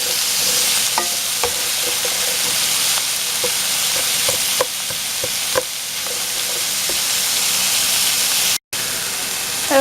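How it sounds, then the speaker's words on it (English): Chicken sautéing in a pan, a loud, steady hiss of frying with occasional soft clinks of a utensil, cut off briefly near the end. "so we're going to saute this for a couple of minutes"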